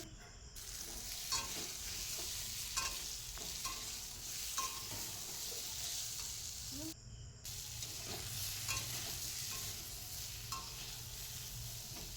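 Steady hiss of pointed gourd, seasoned with salt and turmeric, frying in oil fills the clip, broken by scraping stirs and light clinks of a utensil against the pan, with one brief gap.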